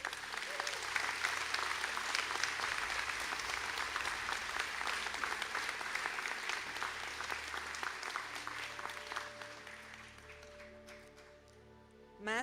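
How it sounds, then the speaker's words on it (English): Audience round of applause for architecture graduates at a conferring ceremony, sustained dense clapping from a large hall that tapers off near the end. "would you please stand up for a round of applause?"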